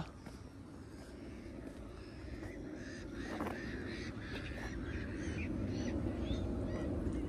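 Waterbirds calling from the River Thames at North Greenwich in East London, harsh honking and cawing cries repeating over a steady outdoor wash of wind and city rumble, moderately distant and with no talk.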